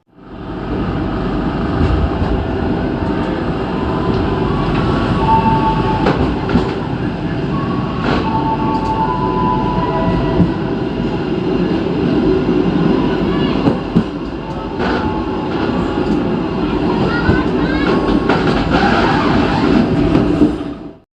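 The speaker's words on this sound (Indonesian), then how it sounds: "Akhirnya berangkat dari stasiun Cibadak dan sekarang menuju stasiun Karangtengah" The KA Pangrango passenger train pulls out of Cibadak station, a loud, sustained rumble of rolling wheels with rhythmic clicks over rail joints and occasional faint squeals, heard close from on board; no talking.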